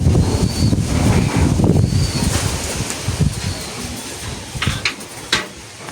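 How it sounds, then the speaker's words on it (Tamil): Strong wind blowing outdoors, loud gusts buffeting the microphone and rustling, easing later into scattered quieter bursts and small clicks. "உண்மைக்கு வெளியில் சரியான காற்றா இருக்குது"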